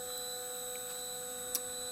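Snapmaker 2.0 A350 3D printer moving its Z-axis near the top of travel, a faint steady stepper-motor whine with a constant electrical hum and a brief click near the end.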